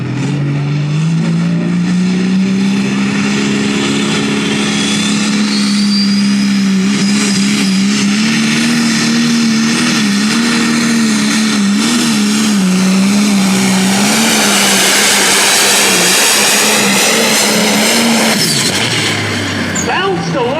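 A loud, heavy engine of an Unlimited Pro Stock pulling tractor at a county fair tractor pull roars continuously at high revs, its pitch wavering as it strains, with a faint voice underneath.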